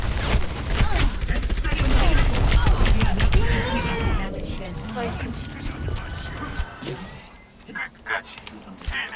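Rapid gunfire bursts in the game Overwatch crackle loudly and repeatedly, with excited players talking over the shots as the bursts thin out toward the end.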